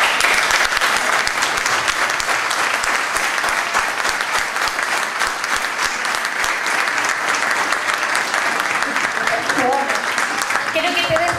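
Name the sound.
audience applause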